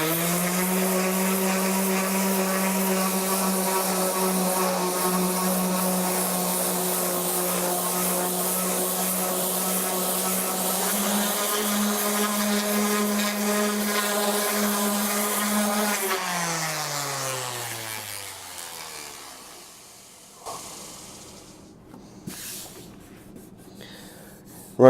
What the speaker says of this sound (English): I got 150 grit on the orbital sander,